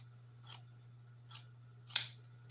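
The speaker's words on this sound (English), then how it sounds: "I'm going to cut this right here down" Scissors snipping leather for an airplane seat recover, three separate cuts spaced about a second apart with the last one sharpest, close up over a steady low hum.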